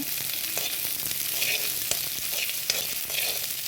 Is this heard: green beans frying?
yes